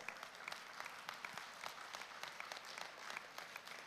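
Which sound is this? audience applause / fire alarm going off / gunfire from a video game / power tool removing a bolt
audience applause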